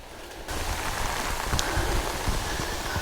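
Steady rain pattering on surfaces on a Hallasan mountain trail near Samgakbong, a dense even hiss with scattered drops, growing louder after a brief quieter start and continuing without voices.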